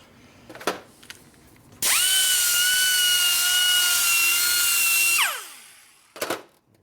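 A power tool whines steadily for about three seconds as it deburrs a sharp edge on a 1977 Harley-Davidson Sportster Ironhead 1000cc motor part, ending with a falling spin-down, with a few short knocks before and after.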